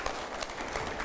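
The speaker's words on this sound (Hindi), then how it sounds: "मैं पहले जोरदार तालियां हो जाए जरा इन सवालों के लिए।" A studio audience claps at a Hindi political discussion show. The applause is a faint, dense patter that sounds distant and continuous, with no speech over it.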